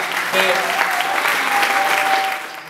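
An audience at the Premios Amazonia 2013 award ceremony applauds dense and steady for the NGO Conciencia Solidaria, with the clapping fading slightly at the end.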